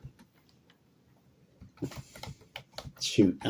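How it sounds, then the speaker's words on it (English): Fast, irregular keyboard typing clicks close by, with a voice talking over the second half. "to think at the same time I'm typing things."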